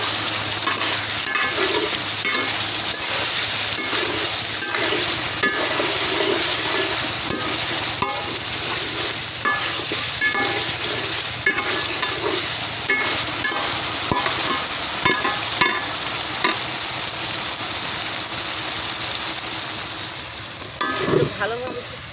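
Pieces of rui fish fry in hot oil in a pan, a dense continuous sizzle and crackle with scattered pops and occasional stirring clinks, close up and without speech.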